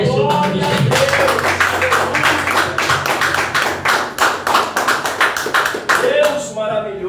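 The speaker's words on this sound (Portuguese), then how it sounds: "E as suas palmas, louve e engrandece o nome do Senhor." A church congregation claps together in praise during a missions service, with dense rhythmic clapping throughout. Voices call out over the clapping and fade as it ends.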